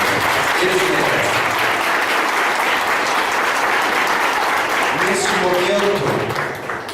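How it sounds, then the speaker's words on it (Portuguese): Dense, sustained clapping from wedding guests fills the ceremony right after the couple's kiss, with voices rising over it toward the end as the applause begins to thin. "Uma salva de palmas."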